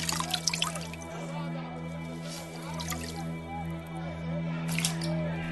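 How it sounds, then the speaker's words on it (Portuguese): Water poured out for washing hands, heard as repeated drips and splashes of liquid over a steady low hum, fairly close and moderately loud, with no speech. "Lavou as mãos diante da multidão"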